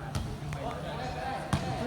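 Hard volleyball spike blocked during a student volleyball match, a single sharp slap of the ball against hands, with a commentator talking continuously over it and crowd noise behind.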